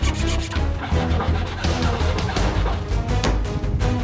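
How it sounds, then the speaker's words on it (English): Hand sanding along the rough jigsaw-cut edges of a wooden basketball hoop backboard, a steady continuous rasping scrape with repeated strokes, close and fairly loud throughout. "When I was done with the jigsaw, I had to smooth out the edges with sanding tools."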